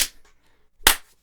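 Two sharp hand claps used as a sound cue, the first at the very start and a louder second one just under a second later, close with silence between.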